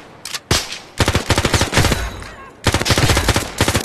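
Automatic and rapid gunfire in the VR shooter Zero Caliber, loud close bursts of repeated shots with brief gaps, continuing in clustered volleys throughout.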